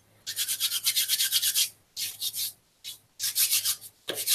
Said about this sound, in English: if your fingers are all covered in flour like mine, you can give your hands a good rub over the bowl